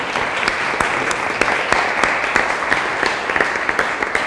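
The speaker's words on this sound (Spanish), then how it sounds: "Un aplauso, por favor" An audience at a formal event applauds after a doctor is named. The clapping is dense and steady, close and loud, with no voices over it.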